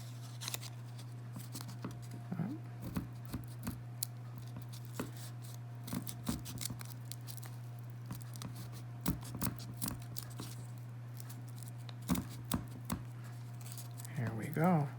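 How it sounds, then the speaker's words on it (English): Scissors snipping through folded paper for a paper snowflake, in short scattered crisp cuts and rustles under a steady low hum, with a person talking between the snips. "And then I'm just going to cut it. And of course, be careful with the scissors."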